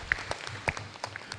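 Audience applause at a university graduation ceremony for STKIP Muhammadiyah Pagar Alam, a soft, steady patter of many hands clapping at moderate distance in a hall, with a few sharper individual claps standing out.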